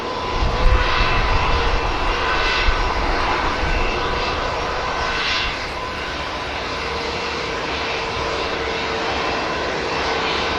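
Pegasus airliners depart and arrive at Manchester Airport, producing a continuous loud roar of aircraft engines with a broad rushing rumble, steady for the whole stretch with no talk over it.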